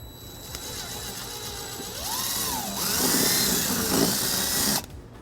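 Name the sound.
drilling a hole with a 3/16 drill bit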